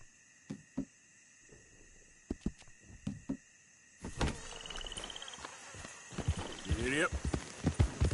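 A horse in Red Dead Redemption II clip-clops, with spaced single hoof knocks at first, then a denser run of hoofbeats and a whinny as a voice urges it on.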